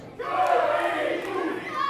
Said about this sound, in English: Brad Michaels not reacting well to the crowd's chanting